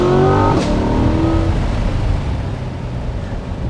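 A Chevrolet Corvette C8 accelerates out of a slow corner, the engine note climbing in pitch then dropping sharply as it shifts up a gear and pulls on with a steady roar, loud and close, alone without talk.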